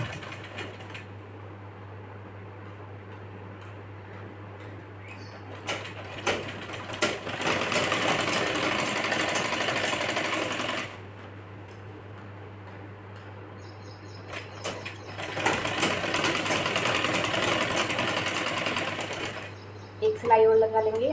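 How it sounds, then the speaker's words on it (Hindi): Sewing machine stitching the side seam of a girl's one-piece frock, two sustained bursts of rapid whirring stitches separated by a quiet pause, close up, with a few faint handling sounds. "अब हम पहले एक साइड से सिलाई लगाएंगे"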